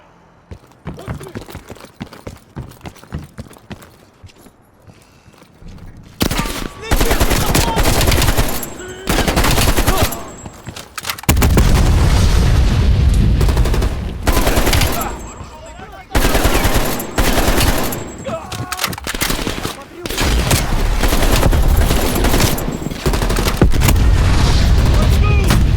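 Suppressing automatic gunfire in Call of Duty Black Ops Cold War: after a quiet opening, loud sustained bursts of machine-gun fire and booms roar in long stretches with brief pauses, up close and dense.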